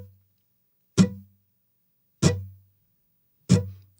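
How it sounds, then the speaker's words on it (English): Muted guitar strings struck in a steady quarter-note pulse, three short percussive thumps spaced evenly about 1.3 seconds apart, each dying quickly into silence. "we're just going to play a pulse on the guitar"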